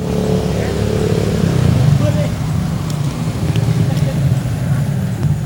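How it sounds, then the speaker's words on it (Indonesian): A motorcycle passes on a nearby road, its engine droning steadily with a rising and falling rev under continuous conversation. "Ntar ada motor lewat."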